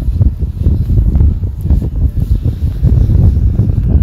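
Strong wind buffets the microphone in continuous low, gusty rumbles, loud and unbroken throughout, during a drone flight outdoors.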